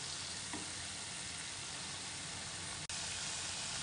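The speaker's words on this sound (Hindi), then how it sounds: "थोड़ा सा फ्राई होने दूंगी इसको 2 मिनट तक।" Schezwan fried rice vegetables frying in a pan, giving a steady, dense sizzle that runs unbroken throughout, with a brief stir near the start and a quick click partway through.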